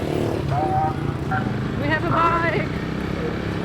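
A newly bought motorbike runs in Cebu, Philippines, its engine a steady rumble beneath excited, cheering voices that talk over it throughout.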